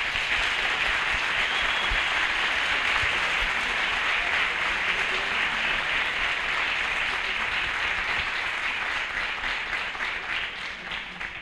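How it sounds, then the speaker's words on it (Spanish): An audience at a diocesan reconciliation congress bursts into sustained applause, a dense, steady wash of many hands clapping that stays loud for most of the clip before slowly tapering off. "un fuerte aplauso."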